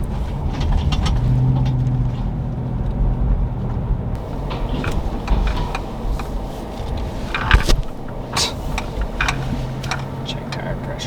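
A Lexus GX460 on the road, its exhaust giving a steady low rumble under cabin road noise, with a brief clank partway through and people talking throughout.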